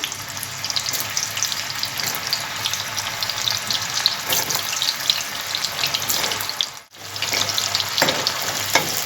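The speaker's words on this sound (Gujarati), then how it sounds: "આપણું તેલ ગરમ થાય એટલે આપણે એને તળવા મૂકી દઈશું" Raw banana fritters for a Jain fasting recipe frying in hot oil over a slow flame, a steady dense sizzle with soft bubbling throughout and a brief dip in the hiss near the end; no talking.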